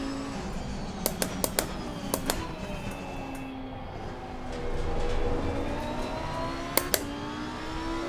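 An Audi R8 GT2 race car's engine in Assetto Corsa Competizione hums steadily at moderate volume, swelling slightly midway, with a few sharp clicks or gear-shift ticks scattered across it.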